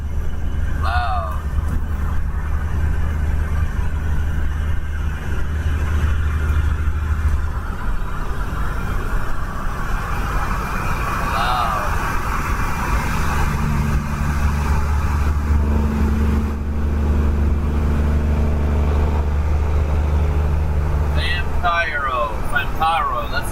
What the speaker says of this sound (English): Your truck is loud as hell, dude.